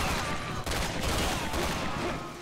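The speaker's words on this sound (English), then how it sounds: "You stop shooting me, please." Gunfire from the Resident Evil 6 video game, a dense continuous burst of rapid shots filling the short stretch, with a brief dip partway through.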